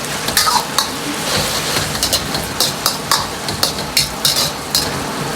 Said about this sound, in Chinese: 接着下入控干油的豆腐，稍微翻炒几下，把豆腐炒上颜色